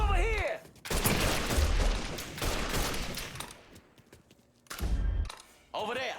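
Rapid gunfire from a shootout in the Mafia 3 video game: loud, dense bursts of shots that drop away briefly and then return, with shouting voices over the firing.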